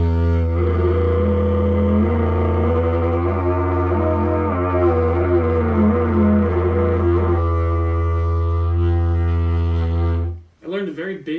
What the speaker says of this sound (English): You can also use a technique called multiphonics, which is where you vocalize or sing as you're buzzing, and that sounds like this.